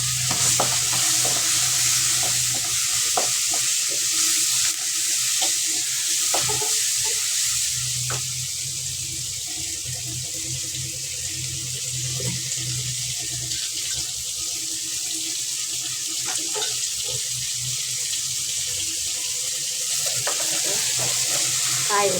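Chopped tomatoes being stir-fried in a pan with turmeric and cumin for drumstick sambar, giving a steady soft sizzle with occasional scraping stirs and clinks throughout.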